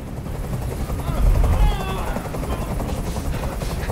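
A helicopter drones loudly and steadily close by in a video game, Detroit: Become Human, its low rotor rumble swelling briefly, with some faint crackling mixed in.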